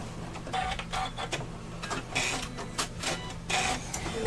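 An embroidery machine stitches along the side of a bag, giving a close, rhythmic mechanical whirring and clicking in repeated short bursts with brief lulls between them.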